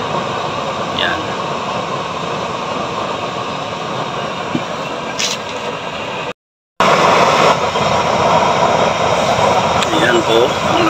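A homemade burner driven by a blower gives off a loud, continuous roaring rush of air and flame with a brief cutout partway through. Someone speaks over it.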